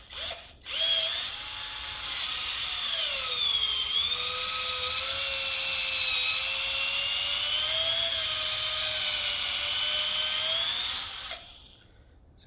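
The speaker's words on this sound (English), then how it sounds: "that's a 3/8 drill bit that I'm using" A power drill with a 3/8 drill bit bores into a John Deere 44 inch snow blade's rubber edge, a sustained high whining drone lasting about ten seconds that bogs slightly midway, then stops abruptly.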